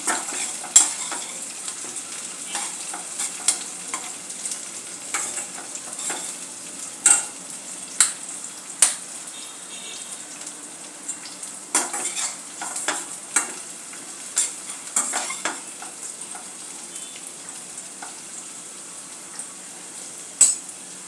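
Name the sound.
onion frying and being stirred with curry leaves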